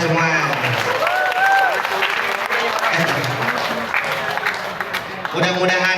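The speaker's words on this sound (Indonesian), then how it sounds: "Tepuk tangan untuk kita semua." Audience applause at a school assembly at a senior high school, a dense continuous patter of clapping filling the room from start to finish, with a voice speaking over it early on and music or tones rising near the end.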